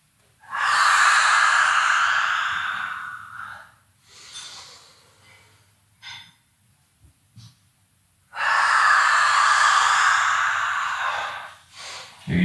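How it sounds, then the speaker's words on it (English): Ujjayi ocean breath during a yoga session: two long, loud, steady hissing breaths near the microphone, each lasting about four seconds, with quieter softer breaths and small sounds between them. "Here you might focus on your Ujjayi breathing, your ocean's breath."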